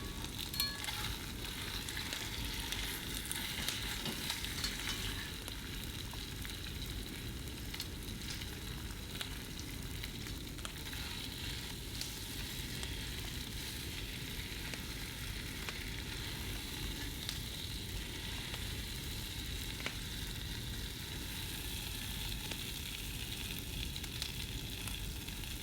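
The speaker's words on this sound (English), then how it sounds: "Pour vegetable oil into a heated skillet and add the beef. Fry the meat over medium heat for 15 minutes," Beef sizzles in vegetable oil in a heated skillet over medium heat, a steady dense crackling fry with occasional scraping of stirring, no voices.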